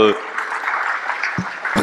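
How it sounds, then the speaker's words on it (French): Audience applauding a speaker at a lecture evening, a soft, steady wash of clapping under brief snatches of a voice at the start and near the end. "On vous applaudit, Jérôme Fourquet, pour avoir..."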